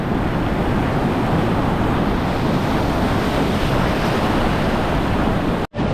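Strong, rough sea waves crash and surge continuously during a fishing trip, a loud, steady roar of surf mixed with wind noise that cuts off abruptly near the end.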